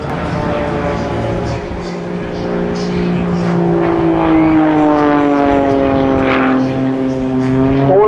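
Aerobatic aircraft performing unlimited-category manoeuvres at a seaside air festival, a loud steady propeller engine drone that shifts in pitch as it turns and climbs, with no gaps.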